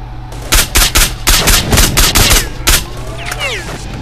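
Gunfire in S.T.A.L.K.E.R.: Shadow of Chernobyl, a loud rapid burst of automatic shots in quick succession over a low droning background, followed by ringing ricochet-like whines as the firing stops.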